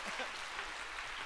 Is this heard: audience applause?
yes